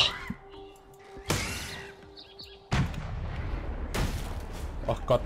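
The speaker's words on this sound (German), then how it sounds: "das hört sich ja an, als wären Kanonenschläge unterwegs bei dir" Cannon-like explosions in the video game Path of Exile, several abrupt loud booming bursts with rumbling tails, mixed with game effects and people talking over them.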